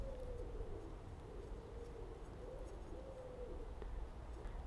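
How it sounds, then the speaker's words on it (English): Pigeons coo at their roost, a soft, repeated low warbling heard faintly against steady heavy rain at a campsite. "Pigeons have come into roost."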